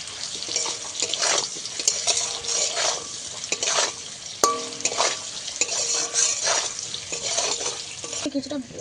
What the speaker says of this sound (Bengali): এদিকে কচুটাকে আমি কিছুক্ষণ এইভাবে ভেজে নিয়েছি